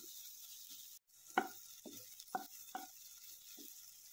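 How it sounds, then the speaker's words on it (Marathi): Finely cooked tomato masala stirred on a low flame for a pea paratha filling: quiet background hiss with a handful of short, spaced spatula scrapes, close and faint. "आपला मसाला हा करपेल, त्यामुळे लो फ्लेमवरतीच हे सगळं परतून घ्यायचं आहे."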